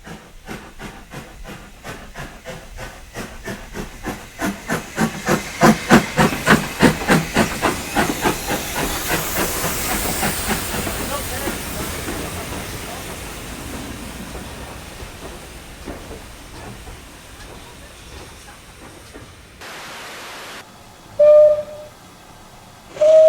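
A Caledonian Railway 55 class steam locomotive in Train Simulator starts with rapid rhythmic chuffs that grow louder and slow into a broad steady hiss of steam, easing off later, with a couple of short sharp whistle-like toots near the end.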